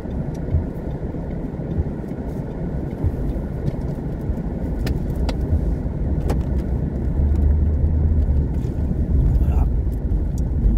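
A car rolling slowly forward in first gear during a driving lesson, with steady low engine and road rumble heard from inside the cabin, continuous and fairly loud throughout.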